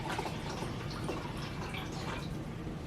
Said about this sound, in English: I have 1 cup of Red Label wine that I'm gonna pour into the blender